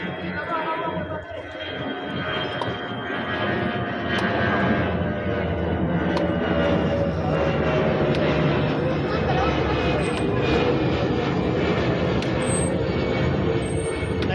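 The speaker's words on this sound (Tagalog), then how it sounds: "Drone, guys." A drone flies overhead at a crowded Ironman 2022 triathlon event in Cebu, a steady engine-like whir under constant crowd chatter and nearby talk throughout.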